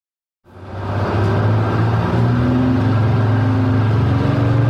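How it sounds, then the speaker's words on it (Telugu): An animated school bus pulls up, its engine starting abruptly from silence into a loud, steady mid-pitched hum with a low droning tone, close and running alone. "బస్సు వచ్చేసింది"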